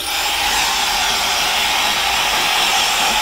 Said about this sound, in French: Et après je fais un coup de sèche-cheveux de cette façon là.